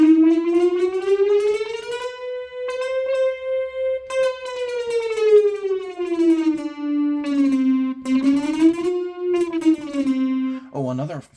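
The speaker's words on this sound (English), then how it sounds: "what a chromatic scale looks like," Chromatic scale in 31-tone equal temperament played on a homemade grid keyboard, a sustained buzzy synth tone gliding through tiny pitch steps up and back down, loud and close with no talk.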